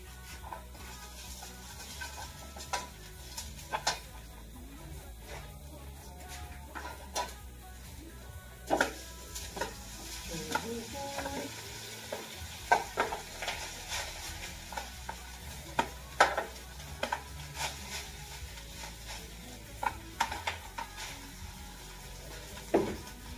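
Rice fries in a pan with no egg, giving a quiet, faint sizzle under repeated scraping and clinking of a spatula against the metal at an uneven rhythm.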